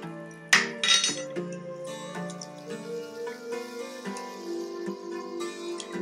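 Hot encaustic wax mixture is stirred in a pot, a metal tool clinking and scraping against the sides in irregular taps, close and fairly quiet.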